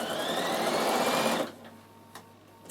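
A sewing machine stitches trousers, running forward and in reverse in one loud, steady whir for over a second before stopping abruptly, followed by near quiet.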